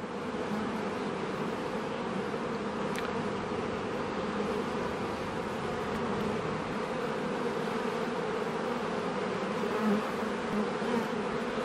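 Honeybees buzzing around an open frame lifted from a hive, a steady even drone with no breaks, moderately close and continuous, with no voices over it.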